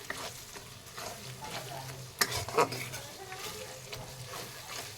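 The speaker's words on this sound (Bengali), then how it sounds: "ভালো করে মশলা নাড়িয়ে নেব।" A spoon stirs ground spices and a spoonful of Kashmiri chili in a pan of oil for chicken biryani, giving a steady sizzle with irregular scraping strokes and a couple of louder clanks near the middle.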